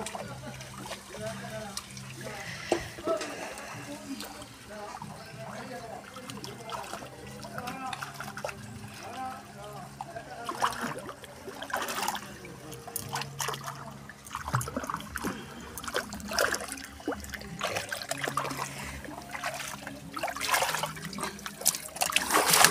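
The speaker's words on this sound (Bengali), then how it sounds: "সিট্টু, তুমি স্নান করছো?" Water poured and trickling while a pet is bathed at home, with intermittent close splashes and dribbles and a person's voice speaking over it at times.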